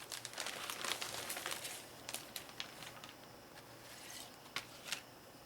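Big plastic bags with tape on them crinkle and rustle while wooden board game pieces are unpacked, close and faint, in uneven bursts of crackling handling.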